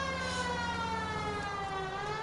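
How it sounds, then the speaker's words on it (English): Police car siren in the video game LA Noire, a continuous wailing tone sliding slowly up and down with layered harmonics, steady and moderately loud, with no talking. "Put on the siren"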